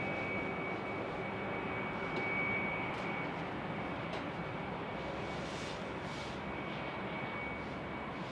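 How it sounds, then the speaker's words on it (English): An airliner takes off from a runway at Salt Lake City airport, a steady, broad engine roar holding at a fairly constant level throughout, with no talk over it. "34 left, clear for takeoff."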